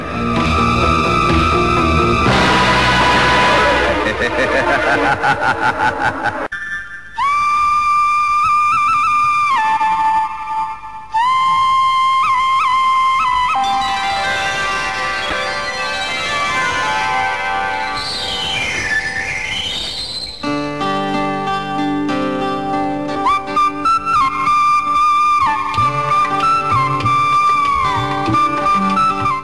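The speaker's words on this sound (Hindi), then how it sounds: "ये वही बांसुरी की आवाज है," A bamboo flute carries a bending, breathy melody over a dense, loud musical backing that swells and shifts throughout, from the 1990 film Sheshnaag.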